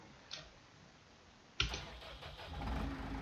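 A tractor's engine in Farming Simulator 19 cranks and catches after a second and a half of near quiet, then settles into a steady, close rumble that swells slightly as it idles.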